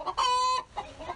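A backyard chicken gives a sharp, drawn-out squawk followed by softer clucks, close and clear, near a garden compost pile the hens have been scratching through.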